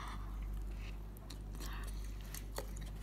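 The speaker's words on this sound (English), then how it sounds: "Now I'll eat my homemade pizza" Close, quiet bites and chewing of homemade cheese pizza with crusted cheese, soft crunches and mouth sounds over a low steady background hum, with no talking.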